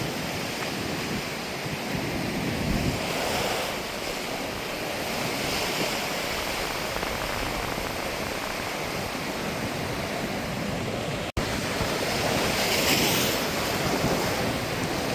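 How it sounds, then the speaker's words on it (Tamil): Rough sea surf breaks continuously against a shore lined with dumped rocks in a Tamil coastal area, a loud, dense rushing roar with steady wind buffeting the microphone throughout. "கடல் அடி எவ்வளோ மோசமானதுன்றதை பாருங்க"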